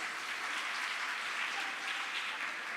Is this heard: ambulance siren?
no